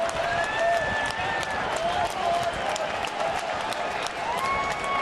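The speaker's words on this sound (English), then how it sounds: "you can hear the rumble in the crowd" Baseball stadium crowd during a Tigers at Blue Jays game in Toronto, a steady low rumble and murmur of many fans under a play-by-play announcer's voice.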